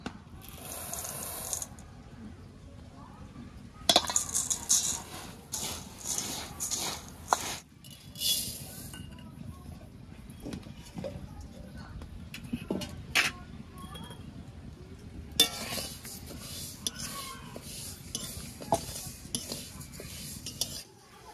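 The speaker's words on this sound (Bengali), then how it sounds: "হ্যাঁ, এই চালটা আর ডালটা একসঙ্গে ধুয়ে দেবো" Rice and lentils being washed together in a pot for khichuri: bursts of gritty swishing and clattering grains against metal, with pauses between, while a person talks nearby.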